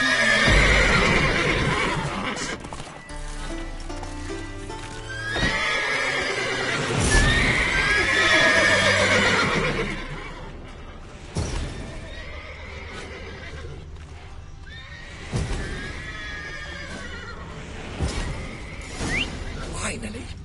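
Horses in The Witcher 3 video game whinny loudly in several bursts, with hoof clip-clop and scattered game effects between them, and voices talk at times over the sounds.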